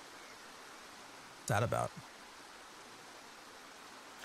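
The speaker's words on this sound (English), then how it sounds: "Definitely like being able to hear the waterfall." Waterfall in the fantasy MMO Ashes of Creation, a steady broadband rushing hiss filling the whole stretch, briefly interrupted by a short spoken remark.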